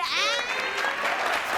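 A small crew behind the camera clapping on a talk-show set, a brief burst of close, scattered applause layered with a speaking voice.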